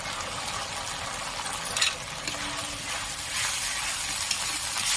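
Onion paste goes into hot oil for a katla fish kalia, giving a steady, close frying sizzle. The broadband hiss runs unbroken and grows a little louder toward the end, with no voices.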